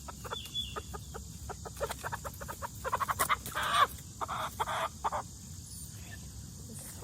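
An Americana hen clucks several times close by, short soft calls in a loose rhythm with quiet background noise between.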